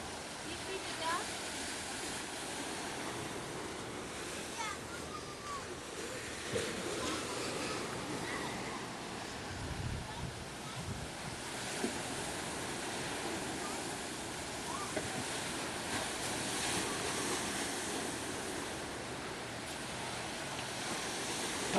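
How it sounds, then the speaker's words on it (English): Ocean surf breaking along the Maine coast, a continuous broad wash of waves heard from close by at moderate level, with faint voices in the background. "The waves are getting a little unhappy right now."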